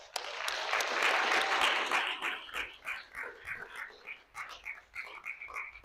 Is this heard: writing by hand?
no